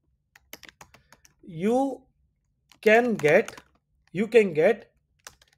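A command is typed on a computer keyboard as a short run of light, quick clicks, followed by someone talking.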